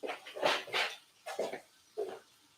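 A pet dog in a home kitchen gives four short, fairly close barks or yelps, spaced about half a second apart and then with longer gaps, with no talking over them.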